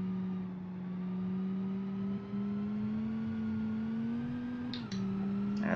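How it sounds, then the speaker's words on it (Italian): A half-broken station wagon engine in the BeamNG Drive game drones in a steady, strained hum that holds at one pitch, rising slightly and then dipping, with no one talking. "Adesso non andrà neanche al massimo perché il motore è mezzo rotto."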